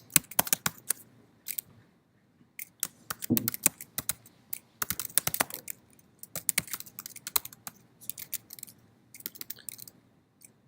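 Computer keyboard typing while code is written, with irregular bursts of close clicking keystrokes broken by short pauses and no talk.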